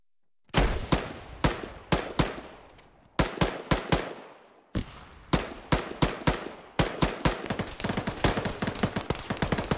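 Sharp, loud gunshots from the military shooter ARMA 3 crack in irregular bursts and rapid strings, close by, each shot trailing a short echo, with no talk over them.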